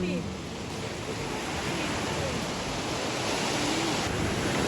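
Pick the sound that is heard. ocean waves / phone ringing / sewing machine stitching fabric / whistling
ocean waves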